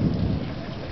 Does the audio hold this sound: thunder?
yes